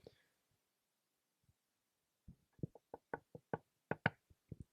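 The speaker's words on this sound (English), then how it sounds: "That's me knocking on wood in case manifesting doesn't work" Knuckles knocking on a wooden surface in a quiet room, a first faint tap or two, then a close, crisp burst of about a dozen quick knocks in an uneven rhythm.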